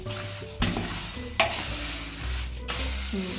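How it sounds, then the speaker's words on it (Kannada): Rice, urad dal, wheat and fenugreek being stirred together with a stick by a woman at home, a steady scraping and rustling stir with a few sharper knocks, close and alone. "ಅಮ್ಮ ಕೋಲಲ್ಲೇ ಮಿಕ್ಸ್ ಮಾಡ್ಕೊತಾ ಇದ್ದಾರೆ ಎಲ್ಲ ಇಂಗ್ರೀಡಿಯೆಂಟ್ಸ್ನ ಒಟ್ಟಿಗೆ"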